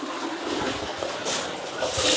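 A toilet flushing in a house near Yagotyn in Ukraine's Kyiv region, a loud rushing, hissing surge of water heard close up that swells toward the end, with no talking.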